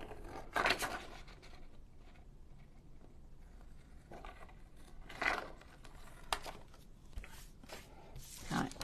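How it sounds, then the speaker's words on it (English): Scissors cut through a sheet of acetate in a few sharp, crisp snips spaced several seconds apart, close and fairly quiet against a low background. "I'm just going to use scissors."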